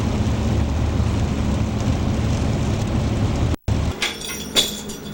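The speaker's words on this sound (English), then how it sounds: "the rain has picked up a little bit" Steady rain hisses continuously, then cuts out abruptly; afterward quieter patter with a few sharper tapping sounds follows.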